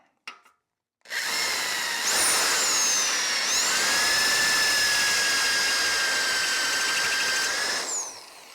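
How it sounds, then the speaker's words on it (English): Power drill bores out a rivet on an exhaust heatshield in one continuous loud whine that holds for about seven seconds, rises in pitch, then winds down as the bit clears the metal. "let's drill this one out and see how we make out."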